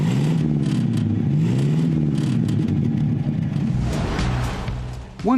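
A 1937 Horch 930 V with a 3.8-liter V8 runs steadily and loudly up close, its low throbbing note shifting in pitch as it revs gently, with no one talking.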